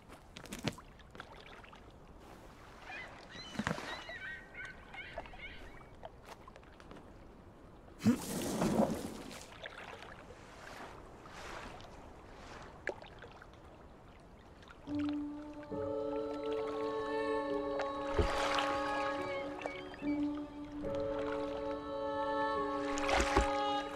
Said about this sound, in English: Row, Teddy, row.